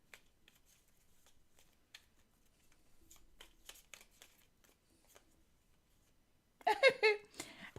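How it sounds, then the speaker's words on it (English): A deck of cards shuffled close up, soft scattered flicks building to a brief loud riffle burst near the end, in an otherwise quiet room. "I keep shuffling the cards, and it's come out again."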